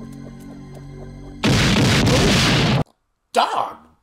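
Gunshot blast from the 1987 film Beverly Hills Cop 2, a loud, sustained booming burst that cuts off abruptly, followed after a short silence by a brief voice.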